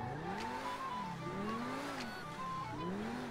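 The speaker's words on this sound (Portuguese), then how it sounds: "Ó, o carro até chama no acelerador." The Progen T20 sports car engine in GTA V Online revs up and down in repeated rising and falling sweeps, loud and close, with no talking.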